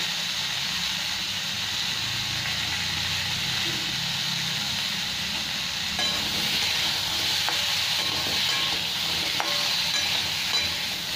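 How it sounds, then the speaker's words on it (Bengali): Potatoes and pointed gourd with turmeric fry in a pan, a steady broad sizzle and hiss with occasional stirring scrapes and clicks, close and even throughout with no talking. "খুব ভালো করে একটু ভেজে নেবো আলু আর পটল"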